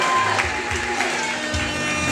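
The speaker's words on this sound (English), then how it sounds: "can we clap it up for ourselves for looking so good" An audience at a publication launch party claps and cheers briefly, with a moderately loud crowd noise and some voices mixed in.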